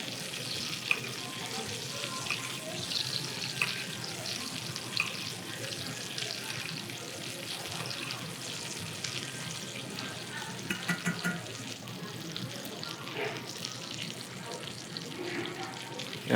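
A duck sizzles and spits in a pan while being basted, a continuous close frying hiss with scattered pops and spoon clinks, a voice faintly present in the background.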